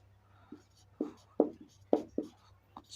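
A pen writes on paper in quiet, close strokes during a math lesson, with short scratchy bursts every half second or so over a faint steady hum.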